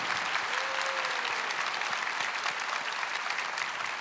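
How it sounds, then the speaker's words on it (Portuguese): A church congregation applauds together, a steady dense wash of clapping that holds for the full stretch with no break and no talk over it. "Se você entendeu, pode aplaudir."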